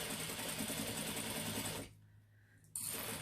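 Sewing machine stitching a gusset with vinyl piping, a steady dense whirring run that stops abruptly near the end, then resumes loudly for a final burst.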